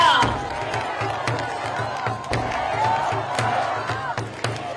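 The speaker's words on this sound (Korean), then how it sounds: "다시 한번 큰 박수 부탁드리겠습니다." Large outdoor crowd at a Seoul City Hall election campaign finale rally clapping and cheering steadily, with scattered shouts and sharp claps over a dense, continuous roar, a voice heard briefly through it.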